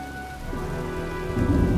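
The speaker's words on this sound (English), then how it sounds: "looks like a storm's coming" Rainstorm in the video game Heavy Rain, with a steady hiss of heavy rain and a low thunder rumble swelling near the end.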